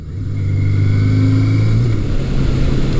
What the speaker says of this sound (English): This bike really does ride and handle nice.